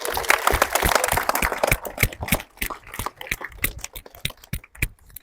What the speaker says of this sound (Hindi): मनजिंदर मैम के लिए भी ताली तो बजा दो यार